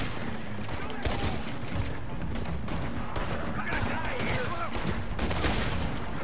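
Continuous gunfire in Red Dead Redemption 2, dense overlapping shots and bursts over a loud, busy in-game background, with voices talking underneath.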